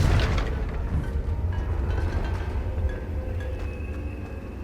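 Confringo, the fire spell in Hogwarts Legacy, explodes: a loud, deep rumbling boom that rolls on and slowly fades over a few seconds, with no talk.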